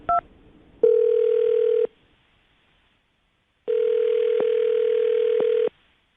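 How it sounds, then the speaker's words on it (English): A telephone dial tone plays steadily for about a second, falls silent, then returns for two more seconds with brief dialing clicks breaking it, preceded by a quick two-note beep at the start; clear and alone, with no talk. "Let's dial the phone number right now."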